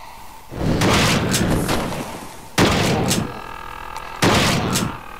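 Three heavy shotgun blasts in the retro shooter Gun Godz, each a loud close boom with a short decaying tail, spaced about two seconds apart with no talk.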